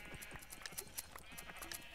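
Sheep bleating faintly in a Minecraft minigame, soft wavering calls mixed into busy game sounds and background music with steady clicking.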